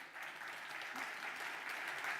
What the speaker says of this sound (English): So give them a round of applause, Professor Danielle George